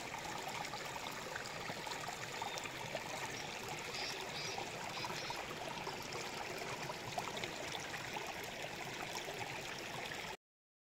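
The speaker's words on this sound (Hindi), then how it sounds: "बारिश का पानी ये बह रही है हमारी नदियाँ। अगर आपको पानी की आवाज़ भी आ रही होगी ज़बरदस्त।" Rainwater rushing along a swollen hillside river during monsoon rain, a steady broadband roar of flowing, gurgling water that continues unbroken and fairly close for about ten seconds, with no voices.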